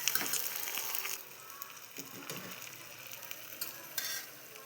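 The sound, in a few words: tamarind and fenugreek dal frying in a pan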